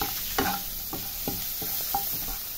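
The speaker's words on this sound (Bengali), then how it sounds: "এবার আমি এগুলোকে সব সুন্দর করে লাল লাল করে একেবারে ভেজে নেব।" Prawn heads seasoned with salt and turmeric sizzle steadily in hot oil in a pan, broken by a series of sharp scraping stirs from a spatula, close up and with no talk.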